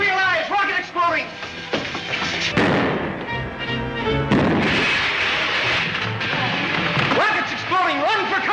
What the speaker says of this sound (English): Rockets exploding!